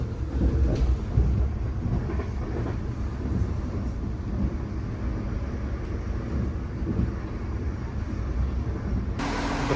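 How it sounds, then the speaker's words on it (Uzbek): Steady low rumble and rattle of a passenger train ride, moderately quiet and continuous with no speech, ending in a brief shift near the close. "Birinchi poyezddan tushdik."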